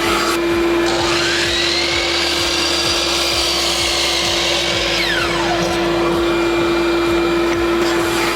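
A shop vacuum pulls air through an Oneida Dust Deputy 2.5 Deluxe cyclone separator with a loud, steady whining roar and a strong constant tone, close and alone.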